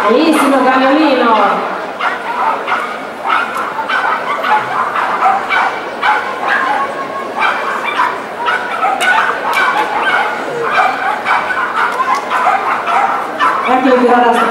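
Small dog at an agility team competition, yipping and barking repeatedly in quick sharp bursts near the microphone, with an announcer talking throughout.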